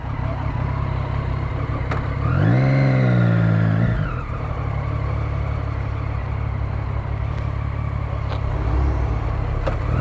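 Motorcycle engine in a Brazilian street setting, revving up sharply for about two seconds before settling back to a steady idle rumble, close and loud over background traffic noise.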